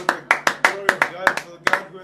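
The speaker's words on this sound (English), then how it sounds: "Clapping for the glory of God." A church congregation claps during worship, sharp claps in an uneven quick rhythm, about a dozen in two seconds, close and loud.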